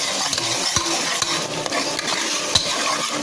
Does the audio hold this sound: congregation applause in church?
no